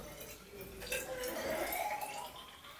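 Water poured from a lab beaker into a graduated cylinder, a faint, short trickling gurgle with a rising pitch as the cylinder fills.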